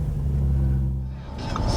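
A Mercedes 560 SEC engine turns over and settles into a steady, loud low rumble close by, with a slight rise in pitch toward the end.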